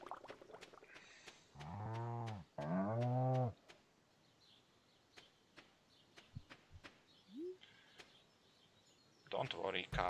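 Cattle in the farming game Stardew Valley give two loud, drawn-out moos back to back near the start. Faint clicks and short game effects follow, and a burst of noise comes at the end.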